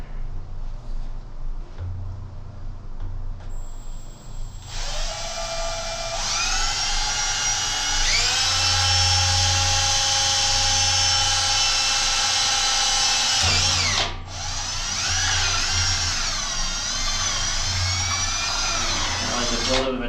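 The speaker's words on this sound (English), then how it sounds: "we're gonna drill our weep hole right here" A power drill bores a weep hole in a combo tank, whining steadily for several seconds, briefly pausing, then resuming, loud and close over a low background hum.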